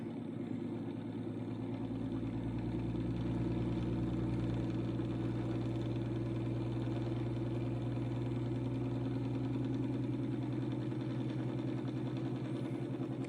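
Homemade pulse motor with a four-inch iron-core coil running at about half an amp, giving a steady, continuous mechanical hum and buzz that holds even and close for the whole stretch, with no talking.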